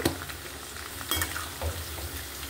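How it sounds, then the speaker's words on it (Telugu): Okra (ladyfinger) pieces frying in hot oil on full flame, a steady soft sizzle with occasional scrapes and stirs of the pan, close and moderately quiet, no talking. "ఇది ఇలా ఫ్రై అవుతున్నప్పుడే కొంచెం ఉప్పు, కొంచెం అంటే కొంచెం వేసుకుందాం"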